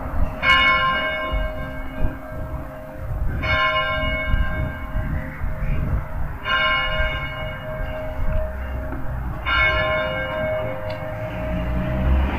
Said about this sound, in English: this is the courthouse and they're ringing their bell.